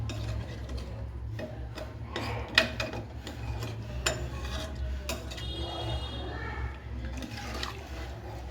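Washed rice is stirred into a Kerala-style vegetable biryani in a pot, with irregular metallic clinks and scrapes of a spoon against the vessel, fairly quiet and close.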